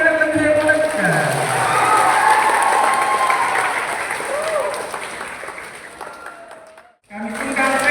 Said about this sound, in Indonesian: Tepuk tangan lebih hebat kan?